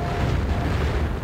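Grenade explosion in the video game Quake, a continuous low rumbling boom that fills the short moment at steady loudness, with no voices over it.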